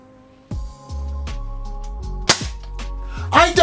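Metal Secutor Velites S-XI airsoft shotgun firing three BBs per shot: several sharp, close clacks and snaps spaced through the clip, with a low mechanical hum between them and a quick rattle near the end.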